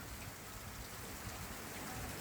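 Steady rain falls at a farm beside a layer house under repair, a dense, continuous hiss of drops on surfaces, moderately loud and even throughout with no voices.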